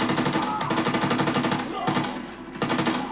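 Rapid bursts of automatic gunfire in Call of Duty: WWII rattle on almost continuously, with two brief pauses, loud and close, a video game firefight.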